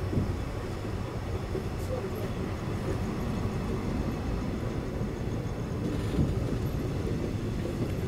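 A train departing Tumakuru rolls steadily along the rails, a continuous deep rumble with rattling that holds at an even loudness throughout.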